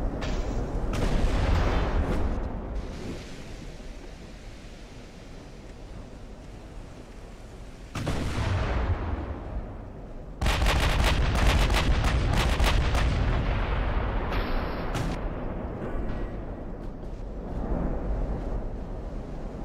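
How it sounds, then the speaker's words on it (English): Deep booming salvos of 16-inch naval guns in the warship game Ultimate Admiral: Dreadnoughts, with heavy blasts near the start and a series of loud shots in the second half over a constant rumbling backdrop. "Darn French and their 16-inch guns."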